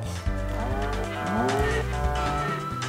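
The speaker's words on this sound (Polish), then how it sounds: "A tutaj są krowy." Cows mooing in the video game Toca Boca Life, a loud drawn-out bovine call that rises and falls over steady farm background sound.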